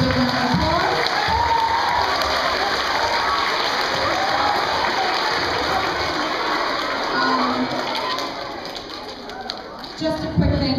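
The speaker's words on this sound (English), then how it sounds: "Let's give Matthew a big round of applause" A school assembly crowd applauds steadily with cheers and children's shouts mixed in, loud and sustained, with a voice rising near the end.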